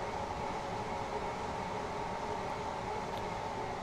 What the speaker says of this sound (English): Beautiful looking train, if I do say so myself.